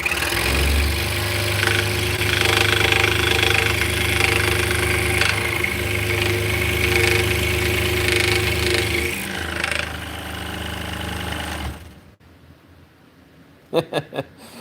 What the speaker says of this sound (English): I can hear this. This is a Pegasus. The DeWalt scroll saw.